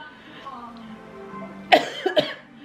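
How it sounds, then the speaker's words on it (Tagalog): A woman coughs several times in quick succession, close and fairly loud, after a short stretch of quiet voice sounds. "Ayan, inuubo na naman ako."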